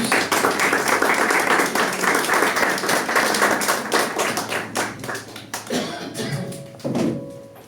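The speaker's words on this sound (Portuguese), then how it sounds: "aplauda o Senhor Jesus, glória a Deus" A church congregation claps together during a worship service, a dense, steady patter of many hands that fills the room before thinning out, with a few voices rising near the end.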